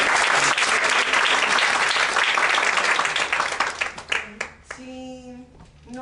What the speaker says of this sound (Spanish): Entonces, aplaudimos por favor a la maestra.